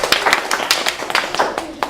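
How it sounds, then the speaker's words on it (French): Hands clapping in a group during a playful round of introductions, with sharp irregular claps spread across the clip and some talking mixed in. "on peut applaudir."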